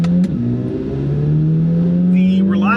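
Chevrolet Corvette C8 Z06 engine holding a loud, steady high-pitched drone with a rising tone, close and continuous for a few seconds.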